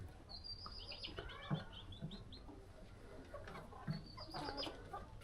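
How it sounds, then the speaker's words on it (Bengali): Chickens cluck softly and chirp at a faint distance on a small rural homestead as they head into their coop at dusk, a few brief low clucks scattered under higher chirps. "মুরগিগুলো ঘরের ভিতরে ঢুকবে এখন।"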